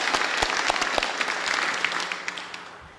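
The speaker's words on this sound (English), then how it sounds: "applause for Meg Riding, our flautist today." Applause for a flautist from an audience at a Unitarian Society gathering, a full dense round of clapping with distinct nearby claps, slowly thinning toward the end.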